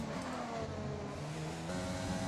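An F1 car engine racing in the F1 2020 video game, a high whining drone that rises and falls with throttle as it holds pace, fairly faint and alone with no talk.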